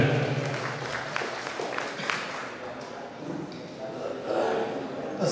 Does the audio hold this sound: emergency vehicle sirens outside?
no